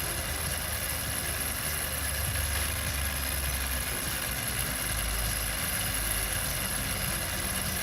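A small Stirling engine runs with a continuous, even mechanical whir and hum, steady in level throughout with no voices.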